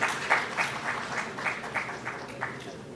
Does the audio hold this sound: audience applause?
yes